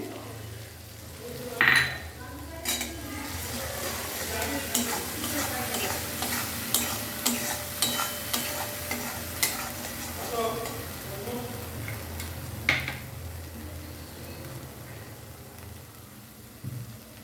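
Eggplant frying in a pan with turmeric and salt, stirred with a utensil that scrapes and clinks steadily against the metal over a constant sizzle, close and moderately loud, with no one speaking.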